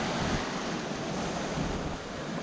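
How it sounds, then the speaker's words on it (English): Water rushes past the hull of a Hallberg-Rassy 54 sailboat under way, a steady, close, broadband wash and hiss with gentle surges, mixed with some wind noise and no voices. "Just love the sound of that water going past the hull"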